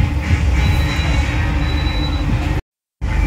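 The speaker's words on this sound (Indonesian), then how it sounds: "Kereta api Lodaya diberangkatkan dari stasiun Klaten." KA Lodaya passenger train of 12 cars rolls out of Klaten station in Indonesia, a loud steady rumble of wheels and carriages with a thin squealing tone, briefly cut to silence before resuming.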